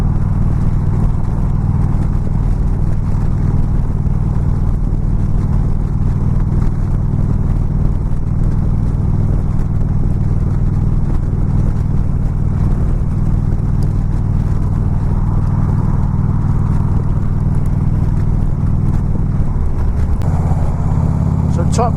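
Motorcycle in sixth gear rolling on the throttle at speed, a loud sustained engine drone with a steady rumble and wind noise throughout, swelling slightly before a brief change near the end.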